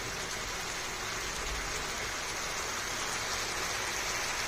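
Steady rain falls continuously, a dense even hiss with no talking, fairly close and constant throughout.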